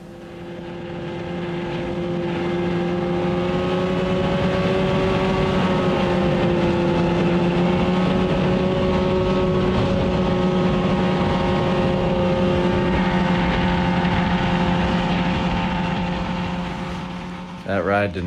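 Snowmobiles pulling a cargo sled ride through snow on a winter trek to an off-grid cabin, a loud, continuous engine drone with a steady hum that swells in, holds and wavers for most of the stretch before a clattering cut-off.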